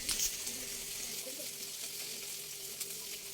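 Sliced ivy gourd coated with turmeric, chili powder and salt fries in oil in a wok, giving a steady, close, bright sizzle with soft crackling throughout.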